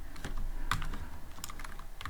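Keys clack on a computer keyboard in a quick, uneven run of close, crisp taps with short pauses in between. No one speaks.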